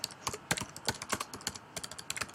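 Rapid, uneven keystrokes on a computer keyboard while composing a social media message, close and crisp, with short bursts and pauses and no talking.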